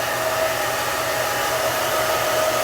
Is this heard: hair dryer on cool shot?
yes